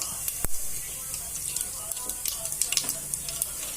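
Mustard seeds and cumin crackling in hot oil, a hissing sizzle broken by sharp popping bursts, one loud pop early and scattered pops later, close up.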